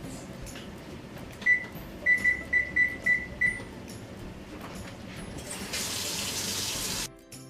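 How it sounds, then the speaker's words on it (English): A kitchen tap runs for handwashing before cookie baking, a steady stream of water arriving late after a series of six short beeps from an oven being preheated. "wash your hands"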